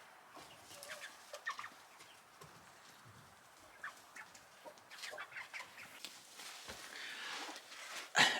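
A flock of cold-hardy Bjurholm chickens clucks softly in scattered, irregular bursts, faint and somewhat distant, with one louder squawk near the end.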